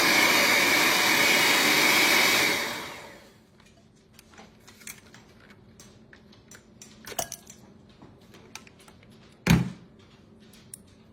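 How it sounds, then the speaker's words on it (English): An electric hand mixer runs at low speed blending a dessert filling in a bowl, a steady loud whir for about three seconds that then cuts off, leaving quiet clinks and small kitchen noises. "we're going to take our mixer and mix it together"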